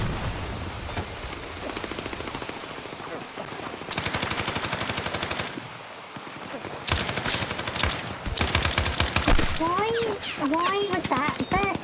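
Sustained rapid-fire LMG shooting in Battlefield 6, long rattling bursts of dense repeated shots broken by brief pauses, loud and close, with a voice talking over parts of it.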